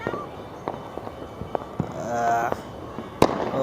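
Firecrackers and bombs burst during Makar Sankranti (Uttarayan) celebrations, with several sharp bangs scattered across a few seconds, one loud crack near the end, and people talking in the background.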